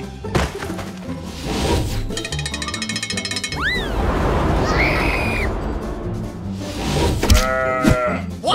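A calf moos in a dinosaur cartoon, its call mixed into a busy cartoon soundtrack with music, boings and thunks; a rising tonal cry near the middle and a wavering, lowing call toward the end.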